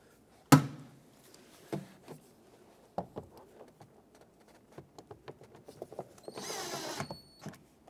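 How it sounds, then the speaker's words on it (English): Screws being driven by hand into the plastic of a 2009-2014 Ford F-150 exterior door handle, with a sharp click, then quiet scattered ticks and creaks, and a brief louder ratcheting rasp near the end. "Now let's put the bottom two screws in."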